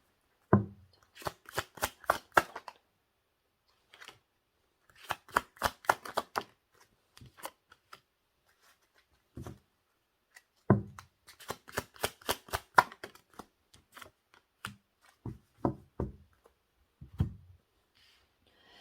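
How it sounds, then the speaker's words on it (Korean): Tarot cards shuffled in quick riffling bursts with brief pauses between, close and crisp against silence, ending with a few soft taps as cards are drawn and laid down. "추가 카드 잠깐 뽑아볼게요"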